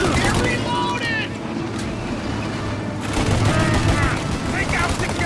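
Gunfire in the Mafia video game: a dense shootout of rapid shots that runs throughout, close and loud, with shouted voices over the top.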